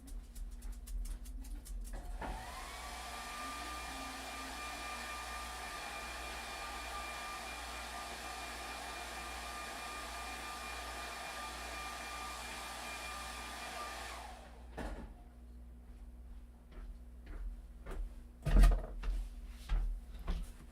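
A hair dryer blows steadily for about twelve seconds to dry wet paint on a flag canvas, a constant whooshing whine that starts and stops abruptly, followed by faint clicks and handling noises in a quiet room.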